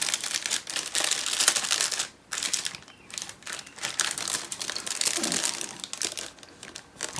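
Plastic bags holding parts of a Flyhawk 1/700 HMS Lively model kit crinkle and rustle close up in irregular bursts, with brief pauses between handlings.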